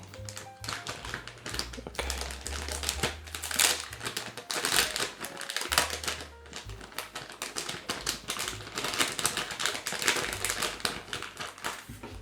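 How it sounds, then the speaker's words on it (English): Packaging for an Olympus EP-13 rubber eyecup for the E-M1 Mark II camera is handled and opened up close: dense crinkling, tapping and rustling in continuous bursts, with no talking. "now we're gonna unbox it and try to set up our camera with it"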